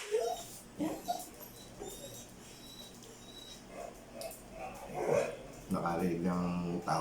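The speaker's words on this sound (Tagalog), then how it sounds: "Nakarinig ng tao yung aso namin sa labas." Scattered barks from a dog somewhere outside, intermittent and moderately distant, mixed with nearby voices talking.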